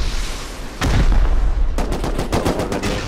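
Rocket launcher fire in the video game Rust: a heavy blast hits after a quiet start, then a fast string of sharp explosive cracks and booms rings out loud and close.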